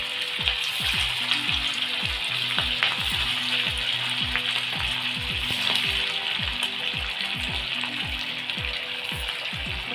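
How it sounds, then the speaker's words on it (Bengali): Bread pakora chops fry in hot oil in a kadai wok, giving a constant, dense bubbling sizzle at moderate volume, with a faint repeating tonal pattern running underneath. "কড়াই তেল দিয়ে দিয়েছি, তেলটা গরম হয়ে গেছে, এবার এগুলোকে ছেড়ে দিব।"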